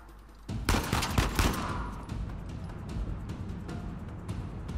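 Rapid gunfire bursts from the Uncharted 4: A Thief's End video game crackle loudly in the opening seconds, followed by lighter scattered shots over a busy combat background.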